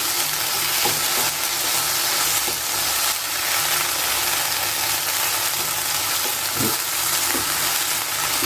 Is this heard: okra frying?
yes